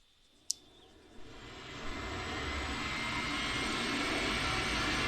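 An aircraft engine at an air show starts after a few sharp clicks and swells into a loud, steady roar that keeps building to the end, with no talking.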